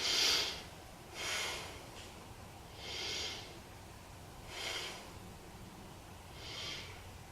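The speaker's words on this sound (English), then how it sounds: "Let's take 3 breaths." Five slow, deep breaths during a beginner yoga pose, each a soft rushing exhale or inhale spaced about a second and a half apart, close and quiet against a faint background hiss.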